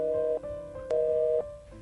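A landline telephone tone sounds after a call is hung up during a stage play, a steady electronic tone that breaks off and resumes in two longer bursts, loud and clear with no talk over it.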